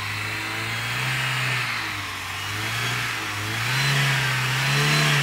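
A small engine running on wood gas from a Grateless DriZzleR gasifier revs up and down in slow swells, a steady mid-pitched drone rising and falling close by, with no talking.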